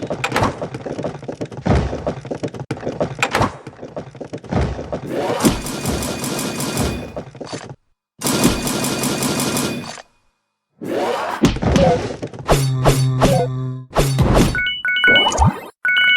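Barrels thrown at the player in the video game Songs for a Hero land with heavy, irregular thuds and knocks, scattered between brief gaps and tonal musical passages, with no speech.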